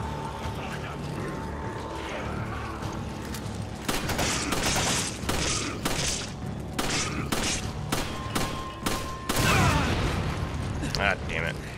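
Grenade explosions and gunfire in the video game Resident Evil 5, a run of sharp booms and crackling shots with a big blast near the end, heard under someone talking.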